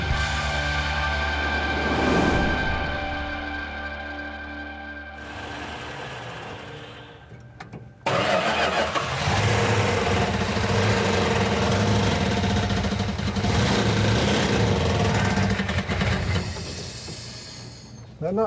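A restored 1970 Plymouth Cuda with a 340 V8 fires up and runs rough, missing as if on about six cylinders, a loud steady engine drone that surges abruptly louder partway through, with voices over it.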